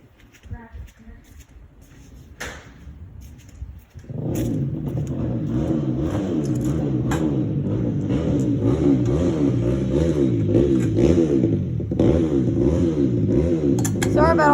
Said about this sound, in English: Somebody's revving a four-wheeler up.